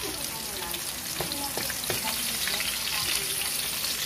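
Onion and garlic frying and browning in a pan, a dense, steady sizzle with a few faint stirring scrapes, close and continuous, with almost no talk.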